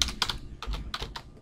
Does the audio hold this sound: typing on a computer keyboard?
yes